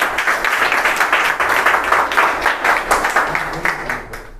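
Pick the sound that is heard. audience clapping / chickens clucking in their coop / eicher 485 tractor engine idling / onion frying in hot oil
audience clapping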